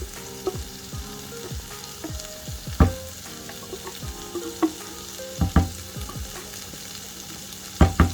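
Hidol hutki chutney fries in a pan over medium to low heat, a continuous soft sizzle broken by sharp scraping and stirring knocks of a utensil against the pan.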